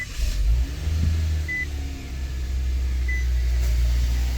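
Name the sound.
Nissan Kicks engine starting after Lokithor jump start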